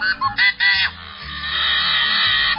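Yellow-headed blackbird giving its harsh, grating call: a few short raspy notes followed by a long strained buzzing screech, fairly loud and close with no talk.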